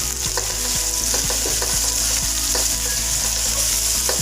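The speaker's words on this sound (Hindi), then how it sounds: "तो जब तक यहाँ पे प्याज सौते हो रही है" Onions sizzle and sauté in a hot pan as part of a chicken vegetable roll filling, a loud, steady frying hiss with occasional stirring clicks and no talking.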